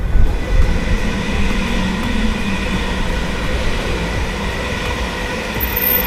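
A train rumbles steadily through Ponders End station, a continuous heavy roar of wheels and motion that stays loud and even from start to finish.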